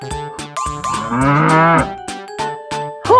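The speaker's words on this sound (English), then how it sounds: "Cow." A cow moos loudly in one long, drawn-out low bellow, with rhythmic clicking and percussive ticks around it.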